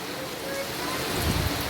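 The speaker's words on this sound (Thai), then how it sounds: "ฝนมาแล้ว" Rain pouring down steadily in a rural village, a dense, close hiss of drops striking surfaces that swells slightly toward the end.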